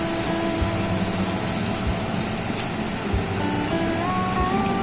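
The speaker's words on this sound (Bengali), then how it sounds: "এবার দিয়ে দিচ্ছি তরকারির জন্য পরিমাণ মতন জল।" Water poured into a katla fish curry in a pan, a steady gushing and bubbling wash of liquid lasting several seconds, close and moderately loud, no talking.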